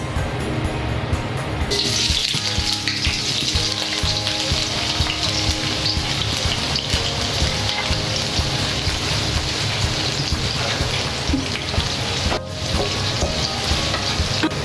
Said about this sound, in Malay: kita gorengkan bawang besar bersama dengan bawang putih ni sehingga kekuningan dan sedikit garing